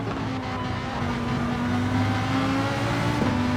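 Race cars accelerating in a racing video game produce a continuous, steady engine drone with a rising tone, loud and close throughout, with no voices.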